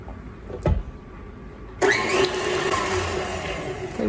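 An electric hand mixer beats an egg into honey bun batter, starting abruptly partway through and then running steadily with a bright, whirring drone after a brief thump near the start.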